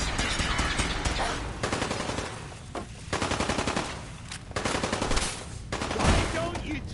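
Sustained automatic gunfire in the video game Fallout 4, a dense, loud rattle of rapid shots running almost continuously with brief gaps, layered with other game sounds.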